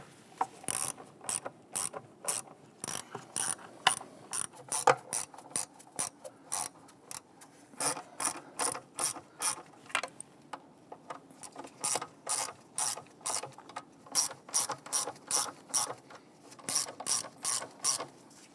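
A ratchet turns valve cover bolts on a 2011-2021 Jeep Grand Cherokee 3.6L V6. Steady, rapid runs of crisp pawl clicks repeat close up throughout, with brief pauses between strokes and no speech.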